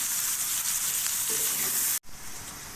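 Potatoes, pointed gourd and a handful of polao rice frying in hot oil in a pan, a steady close broadband sizzle that cuts out abruptly near the end and resumes more quietly.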